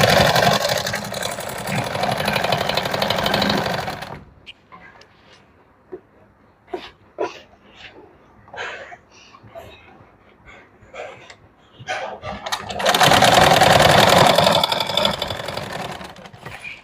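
An electric sewing machine stitches the shoulder seam of a princess-cut blouse in two loud, steady whirring bursts, at the start and near the end, with quiet handling clicks and rustles between them.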